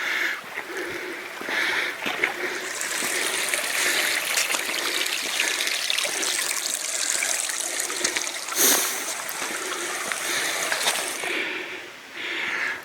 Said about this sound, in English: I'm walking in the creek.